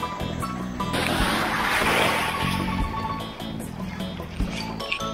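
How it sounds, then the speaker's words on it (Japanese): Ocean wave washing in at a beach in Minami-Boso, Japan, a broad rushing surge of water that swells and fades amid splashing. "えい、波が来た"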